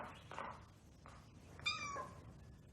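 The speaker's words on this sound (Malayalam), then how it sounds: "പൂച്ചേ, ഇവളാണ് ഈ വെച്ചുണ്ടാക്കിയേ" A cat gives a few soft meows at close range, with a longer rising meow near the end over a quiet room background.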